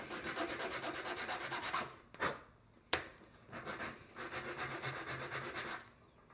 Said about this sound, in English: give this just a little bit of sand in here.